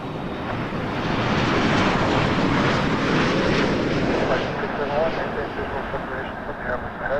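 An airliner taking off at Toronto Pearson Airport, a loud, steady broadband engine roar with wind buffeting the microphone, slowly easing off toward the end.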